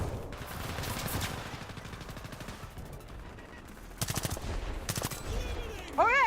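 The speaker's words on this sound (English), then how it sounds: "Oh god, someone's shooting at me" Rapid automatic gunfire in War Thunder, several distinct bursts of shots spread over a few seconds against low battlefield rumble, with a brief rising whine near the end.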